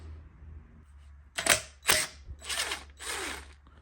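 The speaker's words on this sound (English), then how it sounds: "I'll be just using an impact today. You can use just a regular ratchet and socket to undo the flywheel nut, but the impact makes it much easier." An impact wrench loosens the flywheel nut on a 1954 Johnson 5.5 HP outboard motor, giving four short, loud mechanical bursts close by that are separated by brief pauses, over a low steady hum.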